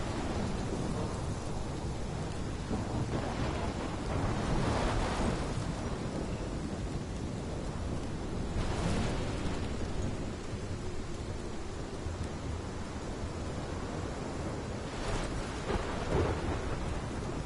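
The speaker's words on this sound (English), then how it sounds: "This is my storm." A heavy thunderstorm from the game Life is Strange: steady, loud rain hiss runs throughout, with several deep thunder rumbles swelling and fading at intervals, and no voices.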